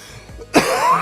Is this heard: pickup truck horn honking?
no